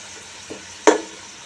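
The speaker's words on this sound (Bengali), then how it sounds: "পেঁয়াজ দিয়ে দিলাম। এবার খুব ভালো করে নেড়ে ছেড়ে" Onions frying in a pan with a quick stir: a soft steady sizzle under a brief scrape near the end, close and alone.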